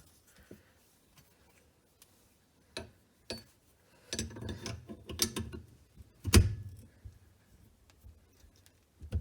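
A household stopcock tap being tightened by hand: scattered metallic clicks and taps, then a run of denser clunks and scrapes midway with one loud knock, close and alone.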